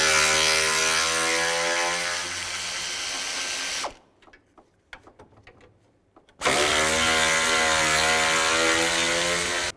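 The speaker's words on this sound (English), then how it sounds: "Take these 4 bolts out, there's 2 on this side, 2 on the other side. Use a 10mm socket." A ratchet driving a 10mm socket on engine mount bolts of a 2006-2011 Cadillac DTS buzzes in two loud, continuous runs close by, with a quiet gap of a few clicks and handling noises in between.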